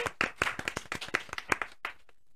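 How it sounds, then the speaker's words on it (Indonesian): A small group claps for a university podcast's first episode in a studio, a quick burst of close, sharp hand claps for about two seconds that ends abruptly. "Tepuk tangan dulu dong."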